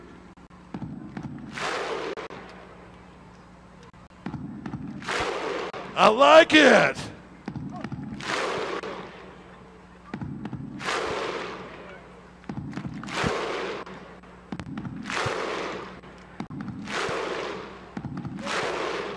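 A live-stream crowd cheers and shouts in repeated loud bursts, roughly every two seconds, with a host's voice briefly speaking between the waves of shouting.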